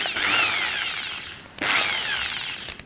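A power drill fitted with an Irwin 22mm 6X auger bit bores into an old 8-inch wooden roofing joist, two loud sustained whirring bursts with a brief pause between them, close up.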